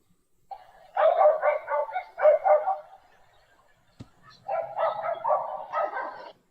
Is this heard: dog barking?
yes